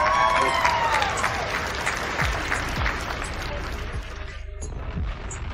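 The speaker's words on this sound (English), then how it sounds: "Give her a round of applause, please," Round of applause on an online podcast call, a broad wash of clapping heard over the connection with voices talking underneath and some faint whistling tones near the start.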